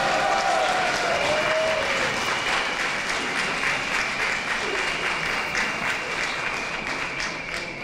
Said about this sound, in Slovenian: Z enim bučnim aplavzom